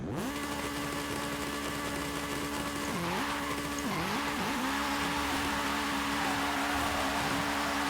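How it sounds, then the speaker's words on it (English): Tire burnout in Forza Horizon from a Honda or Acura drag build, a loud sustained engine drone at high revs with tire squeal, dipping twice briefly before holding steady. "There we go, I got a little burnout going."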